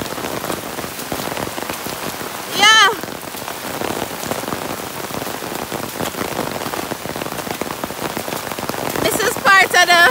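Heavy rain pours steadily onto surfaces nearby, a dense constant patter, with a couple of brief sharp sounds breaking through.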